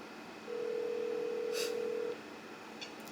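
A phone call's outgoing ringing tone, one steady electronic beep held for about a second and a half against faint room noise, with no speech.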